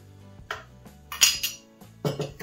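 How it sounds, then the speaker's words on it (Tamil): Two ice cubes drop into a glass of homemade juice for healthy skin and hair, making a few sharp clinks and rattles in short bursts, fairly close and clear with no talking. "ஒரு ரெண்டு ஐஸ் கியூப்ஸ் ஆட்"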